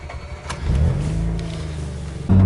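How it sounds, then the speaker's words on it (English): A Mazda RX8 rotary engine cranks with a new starter and catches within a couple of seconds, a brief whirring crank rising into a close, loud idle that settles then surges at the end. "now my car starts like this"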